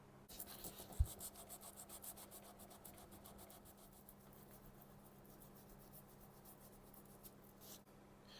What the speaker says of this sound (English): I want to sand them down, so I get down to the bare wood